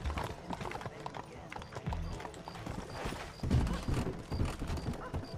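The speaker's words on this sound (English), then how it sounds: "Riding my horsey to the back alley" Horse hooves clip-clopping steadily in Red Dead Redemption, a rhythmic trot up close under busy game sound and occasional voices, with a whinny mixed in.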